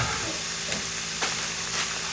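Chicken for marry me chicken browns in a hot pan, giving a steady close sizzle with a few soft stirring scrapes and no talk.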